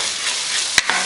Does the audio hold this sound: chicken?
yes